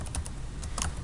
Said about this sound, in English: So I'll type in Sullivan